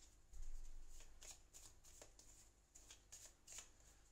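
Playing cards being drawn and handled in a solo game of Goblivion, giving a run of soft, quick papery shuffling and sliding strokes, close and fairly quiet, with no talking.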